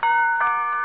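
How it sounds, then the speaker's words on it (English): A single electronic doorbell chime sounds, two bright tones ringing close and clear in under a second. "McGee, that was the doorbell."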